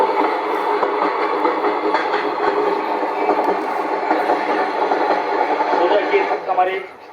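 A continuous rumble and clatter comes from an electric model of the Coromandel Express as it runs into a loop line in a re-creation of the Balasore train accident. It is steady and close, and it fades out at the very end.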